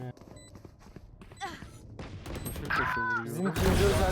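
Gunfire from the tactical shooter Valorant, with sharp shots and thumps in quick bursts mixed with game effects, growing louder toward the end under excited talk.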